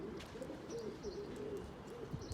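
Pigeons cooing nearby in soft, repeated low rolling calls that rise and fall steadily throughout, with faint background hiss and no talking.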